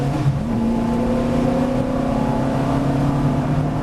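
Ferrari F430 race car engine heard from inside the car, a loud steady drone with harmonic tones that rise and dip slightly as the driver shifts up a gear, continuous throughout with no talk.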